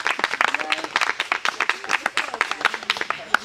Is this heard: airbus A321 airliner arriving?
no